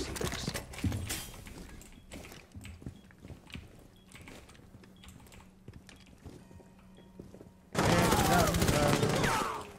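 Gunfire in the game Rainbow Six Siege, scattered distant shots and clicks through the first part, then a loud, dense burst of rapid fire near the end.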